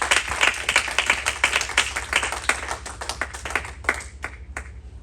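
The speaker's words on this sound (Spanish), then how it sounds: "No sé si le da un aplauso al Señor nuestro Dios." A church congregation at a communion service claps along in a fast, uneven burst of sharp hand claps, loud and close, thinning to scattered claps as it winds down.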